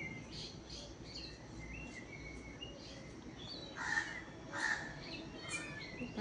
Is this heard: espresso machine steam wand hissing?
no